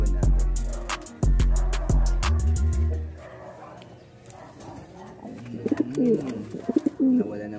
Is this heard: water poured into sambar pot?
no